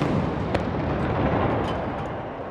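During a presidential inauguration gun salute, a ceremonial cannon shot booms and then rolls away into a long, rumbling echo that fades slowly, loud and carrying through the open air.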